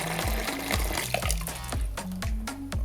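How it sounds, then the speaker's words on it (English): Water being scooped out of a kettle of homebrew brewing water with a jug, a series of sloshing, gurgling pours and splashes in an uneven rhythm, close by. "So basically we're just taking a little bit of water out now."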